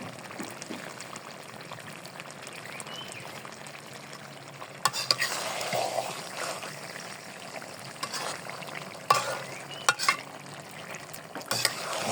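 Raw mango pickle being stirred in a pan, with soft scraping and gentle frying sizzle over a steady background, plus a few sharper clatters of the spoon against the pan partway through.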